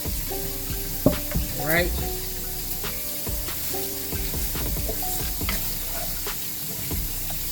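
Orange pepper, green pepper and onion sizzling steadily in a hot pan for smothered steak, a close continuous frying hiss with occasional stirring scrapes and a brief spoken remark.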